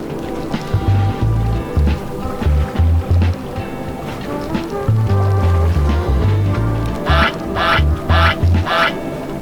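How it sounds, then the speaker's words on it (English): Geese honking loudly and repeatedly close to a kayak on the water, calls coming in rapid irregular bursts with some splashing and paddling in between. "We got out near the geese"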